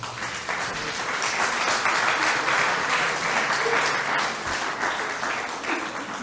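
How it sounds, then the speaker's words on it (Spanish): A church congregation claps in steady, dense applause that holds loud through the whole stretch, with no talking over it. "Dele un aplauso al Rey."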